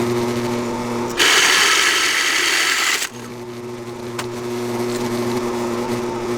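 A power drill bores holes into a wooden shelf for holding routers, the motor whining loudly in one sustained burst of about two seconds over a steady workshop hum, then cutting off.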